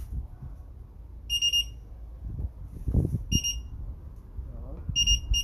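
Alarm of a locked electric unicycle sounding in short repeated high electronic beeps, three bursts spaced apart, over handling noise and brief low talk nearby.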